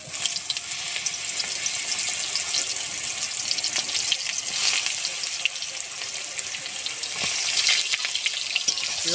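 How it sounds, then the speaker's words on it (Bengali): Ridge gourd fries lightly in hot oil, producing a loud, continuous hiss-like sizzle with frequent small pops and crackles, close and steady from start to finish. "ঝিঙেগুলো একটু হালকা করে ভেজে নেব।"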